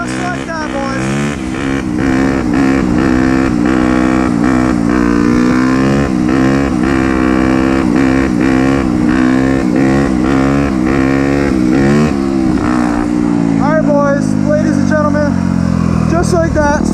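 A motorcycle engine revs hard and steadily through a wheelie, its pitch climbing and swelling with each throttle pull, loud and close, with someone talking over it throughout.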